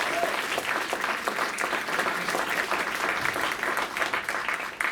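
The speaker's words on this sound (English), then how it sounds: "So if we could give them a big round of applause" An audience at an arts hall of fame induction ceremony gives a big round of applause, loud, dense and sustained clapping for five seconds with faint crowd voices mixed in.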